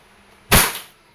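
A WE Airsoft 2011 Hi-Capa T-Rex gas pistol fires one loud, sharp crack up close, with a bright report that fades quickly into quiet.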